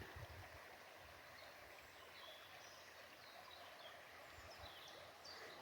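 Soft, steady rushing of a flowing river heard from a distance, a low continuous wash with occasional faint chirps above it.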